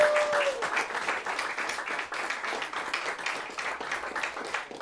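A small audience at a Latgalian prose reading awards event claps steadily for an honoree, a moderate, even patter of hands with no voices over it.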